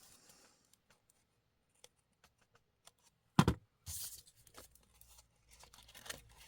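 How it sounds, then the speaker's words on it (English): Scissors trim rounded nubs on a paper window envelope for junk journal ephemera: quiet, sparse small snips and clicks, then a sharp crisp cut and a rustling, crinkling burst of paper handling close to the microphone. "Take my scissors and round out those nubs."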